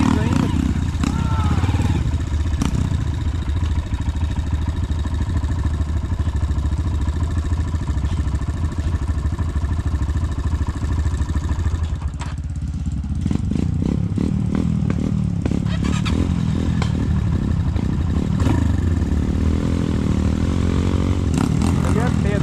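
Motorcycle engine labouring on a slick, muddy hill in the rain, a loud steady drone that surges and clatters in the second half, with someone talking over it.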